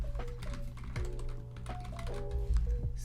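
A computer keyboard being typed on in a quick, quiet burst of clicking keystrokes lasting about three seconds, with no talking.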